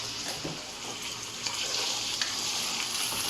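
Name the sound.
mutton frying in hot oil for karahi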